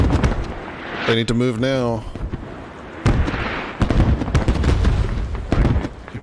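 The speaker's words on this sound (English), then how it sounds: "Smoke barrage is real." Smoke artillery barrage in Squad, with repeated sharp impacts and booms scattered across the span, some close and loud. A voice talks over the barrage.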